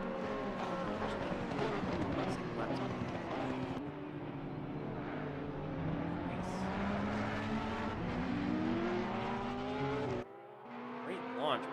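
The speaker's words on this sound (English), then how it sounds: "Great launch by that Porsche." A Porsche GT3 race car launching at Monza in a racing game, the engine loud and close, revving through rising gear sweeps with other cars roaring alongside, and commentary running over it.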